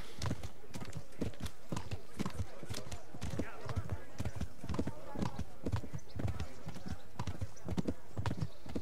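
Rapid rhythmic hoofbeats of a cantering horse in the video game Kingdom Come: Deliverance, steady and continuous at close range, with no pauses.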